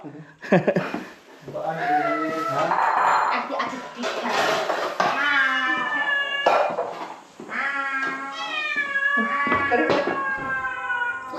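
Cat meowing repeatedly in a home in the Philippines, a series of loud, drawn-out meows close by with kitchen clatter and people talking around it.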